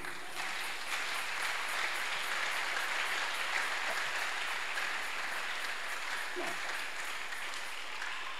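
A church congregation applauds in praise of God, a steady wash of clapping that holds evenly throughout, moderately distant with no voices standing out.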